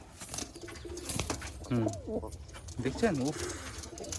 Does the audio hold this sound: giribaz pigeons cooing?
yes